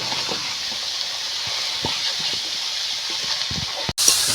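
Shredded cabbage and chicken skin sizzle steadily in a frying pan, with soft scraping and clinking as the mix is stirred, ending in a brief pause and a louder burst of frying.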